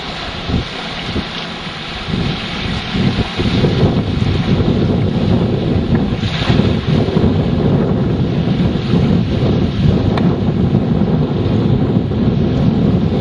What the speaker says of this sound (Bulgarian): Много е слаб вятъра.